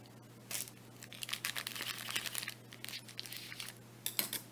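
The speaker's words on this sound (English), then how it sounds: "Oh, I cut through the wrapper." Knife slicing through the foil wrapper of a s'mores cupcake, close-up crinkling and tearing in irregular bursts over about four seconds, with a steady low hum beneath and no speech.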